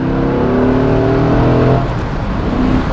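A 1991 sports car engine builds revs under acceleration, a loud, rising drone heard from close by that shifts character partway through, with no voices.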